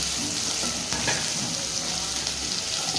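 Onions sautéing in groundnut oil in a pan after mustard seeds have popped, a steady, close, even sizzle and crackle that carries on without pause and with no talking.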